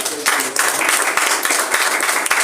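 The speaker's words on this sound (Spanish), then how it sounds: "Le das un aplauso a la persona." Church congregation applauding, dense steady hand clapping from many people, loud and close, with scattered voices mixed in.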